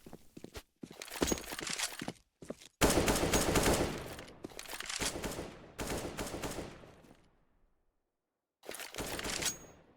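AK-47 rifle gunfire in CS:GO, several rapid automatic bursts of varying length, loud and close, separated by brief gaps and quiet stretches.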